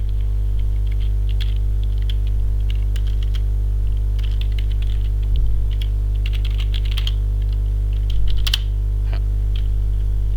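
Someone types on a computer keyboard during Windows penetration testing work, with scattered soft key taps over a loud constant electrical hum.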